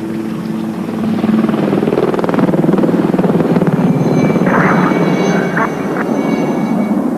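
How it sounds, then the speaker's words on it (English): A Swedish Air Force C-130 Hercules flies a display at an airshow at Fairford, its loud, sustained propeller drone filling the whole stretch with a steady rumbling roar. "This C-130 Hercules belongs to the Swedish Air Force and is flown by 2 pilots who take it in turns to put on their display."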